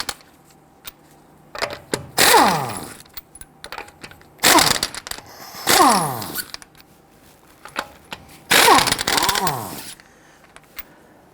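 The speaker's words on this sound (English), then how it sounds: "Using a 21mm socket, loosen and remove your lug nuts." A power impact tool with a 21mm socket removes the lug nuts from the front wheel of a 2008-2013 INFINITI G37 X, firing three loud, separate bursts of rattling hammering, each lasting about a second and a half, with short clicks between them.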